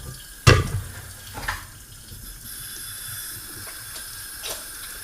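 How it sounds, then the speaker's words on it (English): Hands being washed under a running kitchen tap while making meatballs, with a sharp splash at the start, then a steady soft stream of water. "Wash out my hands."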